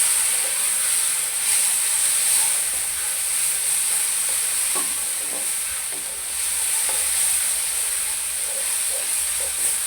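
Ginger, garlic and green chili paste frying in a pan for okra sabzi, a steady close hiss and sizzle with a few soft stirring clicks, no talk.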